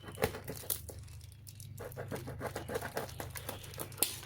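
A plastic package holding ordered flower bulbs is tugged and torn at, giving crinkling and crackling bursts with a soft low hum underneath, close but quiet, and no talking.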